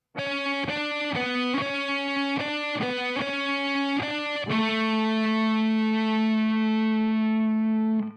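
A distorted electric guitar plays several picked notes, then a long sustained held note with a gentle, subtle tremolo-bar vibrato, clean and close with no talking.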